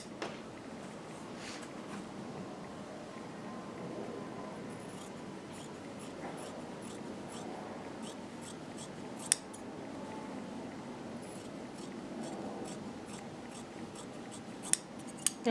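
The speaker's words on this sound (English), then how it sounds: "I'll just cut it while I'm looking at it." Scissors snip through fabric interfacing during a sewing project for a blouse pattern, quiet repeated crisp cuts in a steady run, close and faint, with a few sharper clicks near the end.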